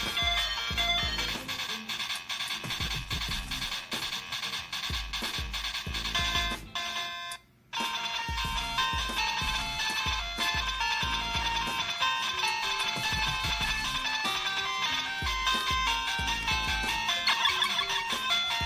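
Mega Man game audio plays from an ODroid Go handheld, chiptune music and beeping effects running continuously with a brief silent break partway through.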